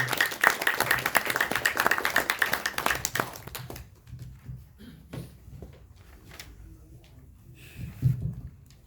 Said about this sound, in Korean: 큰 박수로 환영을 주시기 바랍니다